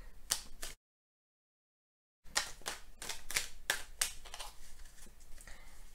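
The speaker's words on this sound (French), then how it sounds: "je bats les cartes et je prends uniquement celles qui sautent" Tarot cards are shuffled in quick, crisp bursts of riffling and slapping, broken by a brief silent gap, close and fairly quiet.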